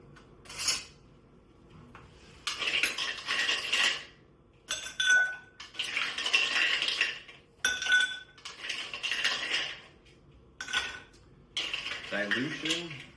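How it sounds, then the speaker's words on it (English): Ice clinking and rattling as it is stirred in a mixing glass for a rye Manhattan cocktail, in several close, steady bursts separated by short pauses. "So we'll add some ice and stir."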